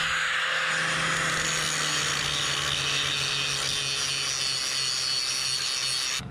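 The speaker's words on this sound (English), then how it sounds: "now we just need to use the side grinder with the grinding blade in order to smooth that down" A side grinder with a grinding blade smooths down a metal stud on a jet ski trailer, a continuous loud, close rasping whine that holds steady for about six seconds before cutting off, with no talk.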